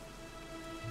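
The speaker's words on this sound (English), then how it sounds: "it was raining like this the last time I ever saw her" Rainfall in the video game Dragon Quest XI, a steady soft wash of rain with a low rumble rising near the end, heard alone without voices.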